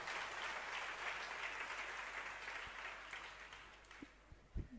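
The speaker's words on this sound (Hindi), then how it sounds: "तालियां तो हमने बहुत सुन ली" Applause from a gathered audience at an Independence Day religious discourse event, a broad wash of clapping that fades out toward the end, followed by a few louder isolated thumps and knocks.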